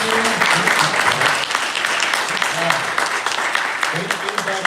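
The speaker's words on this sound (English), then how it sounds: "Let's give them a round of applause here" A room of people at an app presentation claps in a full round of applause, lively and sustained, with a few voices and cheers mixed into the clapping.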